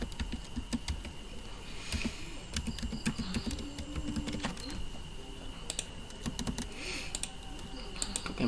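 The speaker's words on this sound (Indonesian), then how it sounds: "Jadi kita pertama itu mengetik nama." Computer keyboard typing in steady bursts of close, crisp key clicks while a name, address, phone number and other details are entered into a boarding-house owner's registration form, with no voices.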